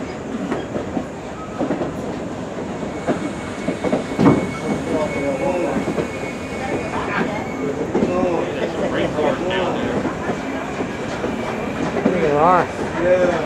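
A Strasburg Railroad excursion train hauled by steam locomotive #90 rolls along with a steady rumble and rhythmic clickety-clack of wheels, heard from inside the coach, with faint squeals and background murmur.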